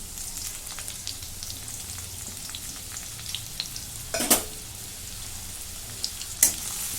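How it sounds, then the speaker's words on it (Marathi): Crushed garlic fries in a pan until browned for a dill and chickpea vegetable dish, giving a soft, steady sizzle at moderate distance, broken by a couple of louder scraping stirs. "लसूण तांबू होईपर्यंत भाजून घेते"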